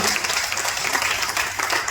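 A crowd applauds steadily, a dense wash of many hands clapping at moderate volume for the whole stretch, with no distinct voices.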